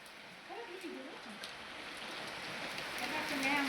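Sudden rain falls outdoors, a steady hiss of drops growing gradually louder, with some faint voices underneath.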